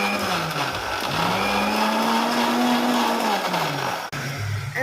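A mixer grinder blends a cookie milkshake of milk and cookies: a loud, continuous motor whine rises in pitch, holds steady, then dips sharply near the end before spinning up again, close and alone.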